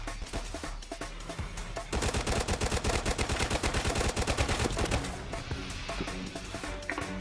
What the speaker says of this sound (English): got the minigun working again